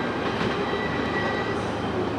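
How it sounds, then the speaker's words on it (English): A Norfolk Southern freight train led by a single ES44AC locomotive rolls steadily past, a continuous broad rumble and rail roar that holds loud and close with no horn and no voices. "there he goes zipping along the track"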